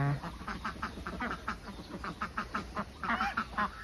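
Two-month-old Yi Liang laying ducks quacking on a farm, a run of rhythmic, nasal calls in quick bursts, moderately close and fairly quiet, continuing for around four seconds.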